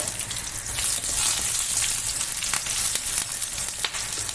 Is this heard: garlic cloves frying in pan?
yes